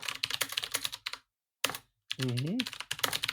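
Mechanical keyboard keys clack in quick bursts with a short pause between, with a voice briefly speaking partway through.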